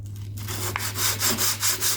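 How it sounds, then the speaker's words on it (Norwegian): Kitchen cabinet door being lightly hand-sanded with a flat block on a small area, producing soft rhythmic rasping strokes, close and fairly quiet, over a steady low hum. "Det er ikke snakk om å slipe så mye, det er bare for å få det glatt av litt"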